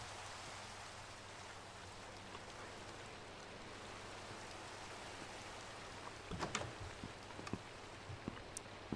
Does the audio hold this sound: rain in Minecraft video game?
yes